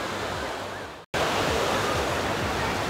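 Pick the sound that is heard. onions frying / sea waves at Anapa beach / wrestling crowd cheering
sea waves at Anapa beach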